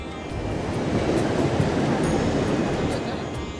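Bhagirathi river near Gangotri flowing past riverside ghats, a steady broadband rush of moving water that holds an even, loud level throughout, with no voices over it.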